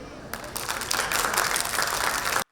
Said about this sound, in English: now let's start clapping